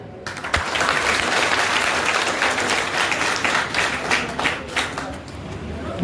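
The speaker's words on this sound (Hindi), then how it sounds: "उन महापुरुषों के लिए जोरदार तालियां" Hearty audience applause at a political party gathering in India, a loud crowd of many hands clapping steadily, growing slightly uneven and choppier toward the end as it starts to thin out.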